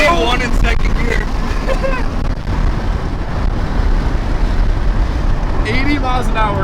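A Honda car engine roars hard under acceleration in second gear, a loud steady drone inside the cabin mixed with wind rush, while people talk excitedly over it.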